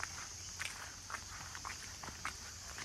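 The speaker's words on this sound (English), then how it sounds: "The wild sound of the forest." Footsteps crunch at a steady walking pace along a road lined with huge cypress trees near a palace in Kuttikkanam, Idukki, over a faint, constant high insect drone of wild forest ambience.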